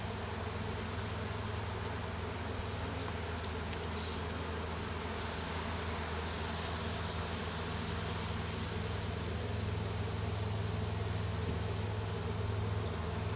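Honey bees hum around an open hive, a steady dense drone of many wings close to the microphone, unbroken and even throughout with no voices.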